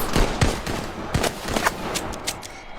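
Gunshots from a Godzilla vs Kong film scene crack out in a rapid, irregular burst, several loud close shots with echoing tails.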